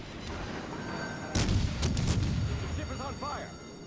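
Heavy naval guns boom in a salvo of several loud blasts from a warship in World of Warships: Legends, followed by a rumbling tail as someone talks over the firing.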